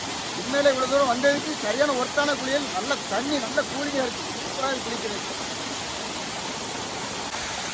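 Rushing water of the Kothaiyar twin waterfall in a forest area, a steady broadband roar running through the whole clip, with a voice speaking over it in the first half.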